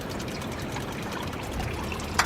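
Water runs steadily from a portable gas shower heater outdoors, a continuous close hiss and trickle with no pause, ending in a brief sharp knock.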